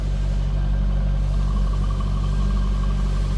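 A 2003 Chevrolet Corvette 50th Anniversary convertible idles with its stock exhaust, a steady, loud low rumble with no revs, heard from behind the car.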